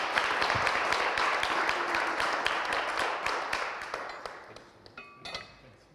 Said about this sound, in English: I think a small applause for the panel will be appreciated